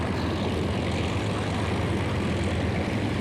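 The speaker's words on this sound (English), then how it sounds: "An Avro Lancaster here at East Kirkby." Steady, loud drone of an Avro Lancaster bomber's propeller engines at East Kirkby, a dense rumbling roar holding constant throughout.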